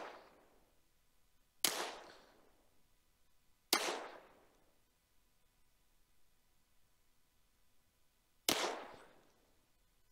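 Three sharp, cracking gunshots from a Walther P22 .22LR pistol ring out at irregular intervals, each with a brief decaying echo, against an otherwise quiet background.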